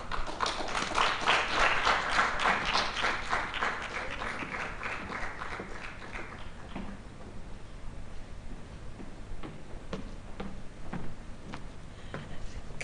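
Audience applause after a speech at a Lead Africa gathering, a dense burst of clapping that fades after several seconds into a few scattered claps.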